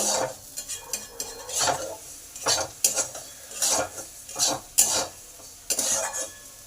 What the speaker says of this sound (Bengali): গোবিন্দভোগ চালটা আমার ভাজা হয়ে গেছে